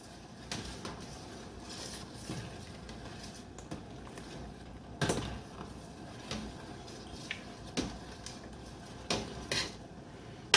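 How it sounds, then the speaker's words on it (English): A spoon stirs Zatarain's crab boil seasoning in a pot, giving scattered metallic clinks and scrapes over a low bubbling background, fairly quiet and irregular. "I'm going to just stir this up some more"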